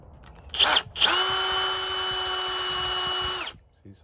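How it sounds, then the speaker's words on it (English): A cordless power drill bores a pilot hole while a storm door is being installed, with a short whir, a brief pause, then a steady high motor whine of about two and a half seconds that stops abruptly. "pre-drill, and then go to the other side and do the same thing"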